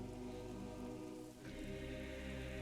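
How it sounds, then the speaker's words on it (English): Steady rain falls in a thunderstorm as a constant, soft wash of patter, heard alone with no voices and no distinct thunder claps. "It is raining. There's thunderstorms everywhere."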